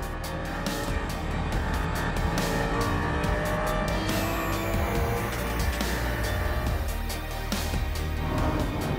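An Audi race car laps Spa in a tense Superpole qualifying run, its engine a loud, sustained roar with shifting gear tones and rising pitch sweeps, close and continuous throughout.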